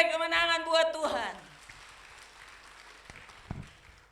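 Church congregation applauding and cheering during a service, a dense burst of clapping and voices under a loud amplified voice, fading after a second into scattered claps and room noise.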